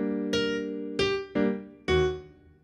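Piano with left-hand comping chords under a simple right-hand chord-tone line: four distinct struck chords, each ringing and decaying before the next, close and clear with no talking.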